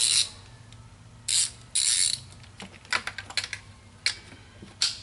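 A ratchet wrench clicks in short bursts while tightening throttle body bolts on a 2007 Mini Cooper S R56, with a few quick ratcheting runs and small metallic taps, close and fairly clear.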